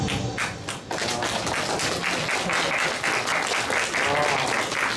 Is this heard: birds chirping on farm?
no